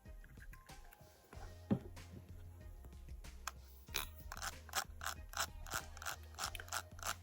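A Scalextric Jaguar Lister slot car on the bench has its small electric motor and axle turned by hand, giving faint, close clicks, ticks and brief mechanical whirrs in an uneven sequence, with no talk.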